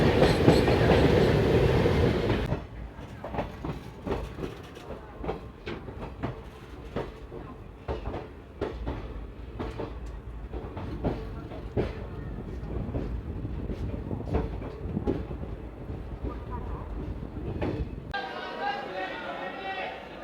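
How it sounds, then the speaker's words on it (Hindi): At Malda Town station in India a train rumbles past on the Kanchanjunga Express route, opening with a loud wind-buffeted roar, then steady clickety-clack and rail rattle under platform chatter and talking voices, ending in a high squeal. "भाई साहब कोई नाहर लगून की ट्रेन है"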